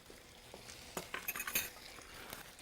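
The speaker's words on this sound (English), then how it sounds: "So you're just stir frying this." Quiet scraping and clinking of a utensil stirring food in a pan, a few quick strokes over a faint background hiss.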